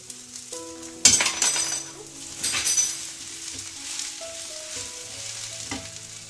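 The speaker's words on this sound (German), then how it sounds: "Und hier kommen jetzt die Champignons rein." Loud sizzling and crackling of mushrooms frying in a hot pan, with a sharp burst as they go in, followed by stirring clatter.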